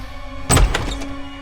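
A single heavy thump of a door flung open as soldiers burst in, followed by a brief rattle and clatter, fairly close and loud against a quiet background hum.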